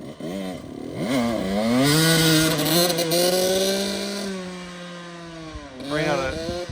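A small motorbike engine fitted with a Lectron Billetron Mini 29mm carburetor revs on the road from idle to half throttle, a loud buzzing rise that holds, dips and climbs again, with a voice talking over it.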